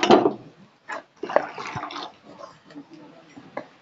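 Water is poured over drumstick leaves being washed in a home kitchen, making short, uneven splashing and trickling bursts. Quiet talk runs through the sound.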